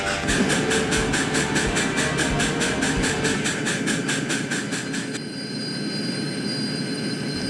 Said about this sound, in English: The train didn't slow down until it reached another large station